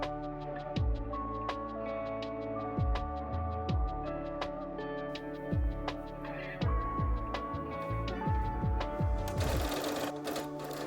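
A home sewing machine stitches the shoulder seams of a smock dress bodice, running steadily with a rhythmic mechanical hum and needle clatter. Short pauses break the run, and a brief louder burst comes near the end.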